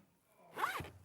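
A sturdy zip on a Crafter's Companion die storage case is drawn once in a short, smooth pull, close and fairly quiet, alone without talk.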